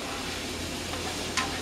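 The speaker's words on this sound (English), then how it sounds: "the mushrooms and the onion and the olive oil, and we've got the onion powder, black pepper, and a little bit of salt in here. They've been cooking" Mushrooms and onions frying in olive oil with onion powder, black pepper and salt give a soft, steady sizzle, with a single brief clink or stir near the end.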